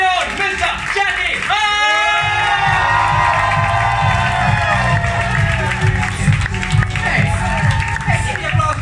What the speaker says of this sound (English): put your hands together. Start clapping. Start cheering